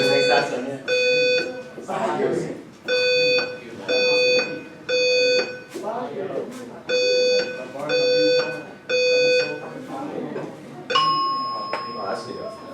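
Building fire alarm system under test at MIT, sounding in repeated bursts of piercing electronic tones with short gaps, loud and close, while people talk over it.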